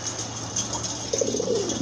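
Pigeons coo amid the steady background hum of a pigeon sale, where feather-footed birds are shown. A few low, rolling coos rise near the end, moderately close.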